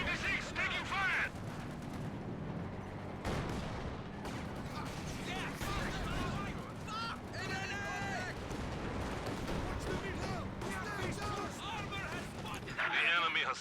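An SU-76 self-propelled gun comes under fire in the game Company of Heroes 2, with continuous artillery booms, gunfire and explosions rumbling throughout under a commentator's talk.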